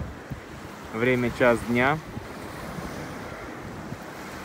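Sea wind blows steadily across the Black Sea embankment in Sochi on a cloudy August day, a constant broadband rush with surf-like texture throughout, while someone briefly speaks over it near the microphone.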